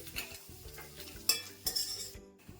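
Vegetables fry in a pan for chicken egg fried rice, a soft sizzle under sharp metallic scrapes and clinks of a spatula stirring, several distinct strikes spaced irregularly, fairly faint and close.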